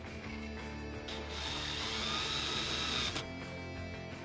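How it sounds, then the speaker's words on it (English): Power drill boring into the back of a metal furniture piece, a steady whining buzz that swells for about two seconds before dropping back to a lower background hum. "And then we drill in the back of our furniture."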